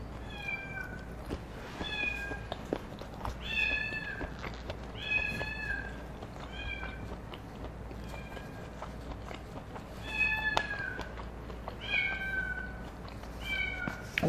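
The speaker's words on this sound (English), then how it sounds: "You guys are gonna be so annoyed with that cat." A black cat meows again and again in a kitchen, short rising and falling cries repeating every second or two at close range, over steady household background noise.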